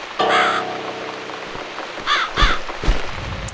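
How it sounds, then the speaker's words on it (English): A crow caws loudly outside, one long call followed by several shorter harsh caws, close and clear with no talk. "It's this damn bird again."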